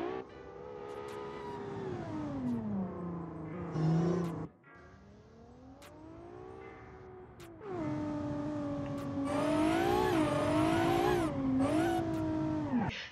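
A car in the racing game Automation accelerates hard uphill on nitrous, its engine revving loudly with rising and falling pitch through gear changes and tire-smoking wheelspin, a brief lull midway before the roar returns.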